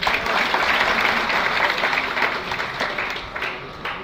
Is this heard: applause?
yes